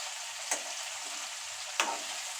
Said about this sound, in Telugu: ఈ కాకరకాయలన్నిటినీ చక్కగా అటు ఇటు కదిలిస్తూ మనము ఫ్రై చేసుకోవాలి